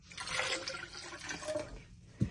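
Blended chipotle chili sauce, thinned with a little water, pours into a pot of pozole rojo as a close, wet splashing stream that trickles off and ends with a soft knock.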